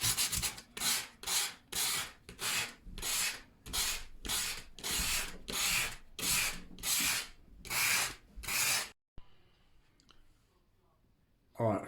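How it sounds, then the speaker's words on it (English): Light hand sanding with smooth sandpaper over a dried, filled crack in wood, heard as about a dozen rhythmic back-and-forth rubbing strokes, close and steady, ending in near silence. "we're going to give this a real light sand with smooth sandpaper"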